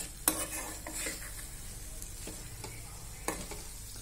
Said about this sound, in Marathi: मसाल्याने तेल सोडलं आहे म्हणजे आपला मसाला हा बऱ्यापैकी फ्राय झाला आहे